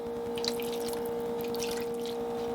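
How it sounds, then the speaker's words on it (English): Water pours into a pan of taco filling with ground beef and rice, a soft continuous splashing trickle over a steady background hum, no voices. "we're going to add some water"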